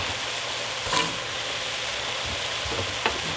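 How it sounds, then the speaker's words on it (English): Carrots, celery and peppers sizzle in a hot pot for chicken chili, giving a steady close hiss with a couple of brief clinks and no talking. "So I'm gonna add carrots now. Actually, I can add everything now. My celery, peppers."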